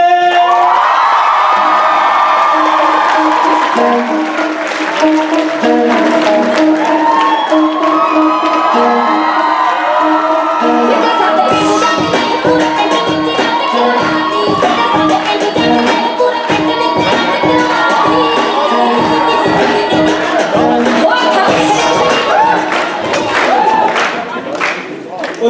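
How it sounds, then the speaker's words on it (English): A large high school audience cheers, whoops and applauds loudly at a student cultural show, starting with music and an announcer's voice, then erupting into sustained screaming and clapping that continues across the whole stretch. "Now we need a loud applause to introduce our board members"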